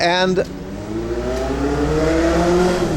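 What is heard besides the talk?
car driving past, revving with tire squeal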